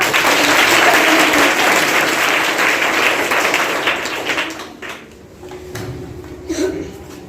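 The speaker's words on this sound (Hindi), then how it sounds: "सुहानी के लिए जोरदार तालियां" A crowd at a student gathering gives loud applause for a young girl, dense clapping for about four seconds that thins and fades into quieter scattered sounds.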